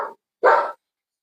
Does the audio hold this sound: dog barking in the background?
yes